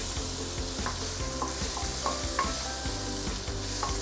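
Fermented soya bean being stirred and fried in a pan for a tofu stew, with steady close sizzling and repeated scraping strokes of a utensil.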